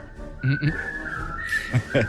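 A person whistles short repeated two-note blips imitating the 'dink dink' sound from Spaceballs, in bursts over a steady tone, with faint voices in the background.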